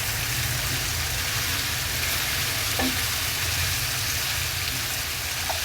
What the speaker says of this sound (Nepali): अब म यसलाई भुट्छु।